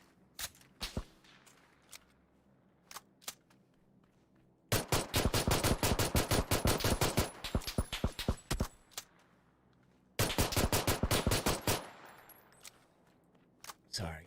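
Gunfire in the PUBG video game: scattered single shots at the start, then two long bursts of rapid automatic fire, loud and close, with brief pauses between them.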